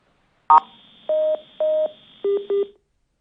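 A short burst followed by four electronic telephone dialing tones on a disconnected phone line, evenly spaced beeps, clear and close against silence.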